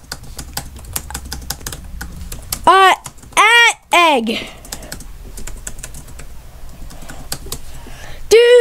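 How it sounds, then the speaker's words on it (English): Rapid clicking keystrokes on a computer keyboard while a chat message is typed in the Block Wars game, fairly close, with brief bursts of excited talk cutting in over the typing. "I'm typing chat"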